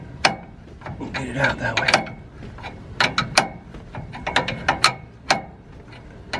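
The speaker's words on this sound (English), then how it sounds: "Then we'll put the ratchet on the other side." Hand ratchet clicking on an air ride four-link bushing bolt, sharp, close, irregular bursts of metallic pawl clicks, with someone speaking briefly between them.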